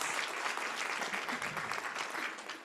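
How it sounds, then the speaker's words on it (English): Steady, dense applause from a conference session audience fills the space at moderate level, continuous throughout and tapering slightly at the end, with no talking over it. "Let's give Misty a round of applause."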